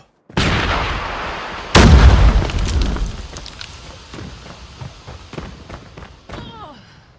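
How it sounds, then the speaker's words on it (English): In the Call of Duty video game, a loud grenade blast and a bigger booming explosion are followed by a run of sharp gunshots that fade as the rumble dies down. "Grenade out."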